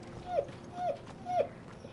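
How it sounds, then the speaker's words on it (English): A dog whimpers or yips nearby three times at a steady rhythm, each cry short and rising, over a quiet background. "You can hear my dog."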